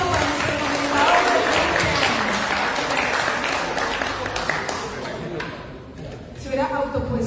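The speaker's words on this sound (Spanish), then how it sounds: "Un aplauso para nuestro concejal." Applause for a council member at a municipal council session, clapping mixed with voices and room noise, fading toward the end as talk resumes.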